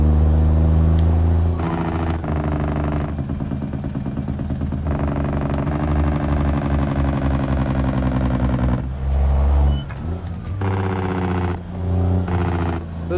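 Truck engine in a truck-driving game, revving hard at high RPM, then dropping low. A loud, steady harmonic drone runs throughout, broken by brief dips and gear-change gaps.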